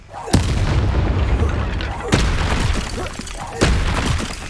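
Three loud blasting explosions from the Confringo spell in the Hogwarts Legacy video game, each a sharp crack that swells into a long rumbling roar. The blasts are spaced roughly two seconds apart over continuous game noise.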